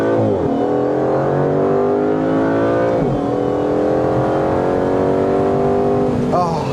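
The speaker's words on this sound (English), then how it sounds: "I do love revving it out, and if I revved it out all the way, this baby will do 211 miles an hour." A 2020 Aston Martin DBS Superleggera Volante's V12 engine revs hard, loud and close, rising in pitch through several climbs with brief drops between them as it pulls through gears.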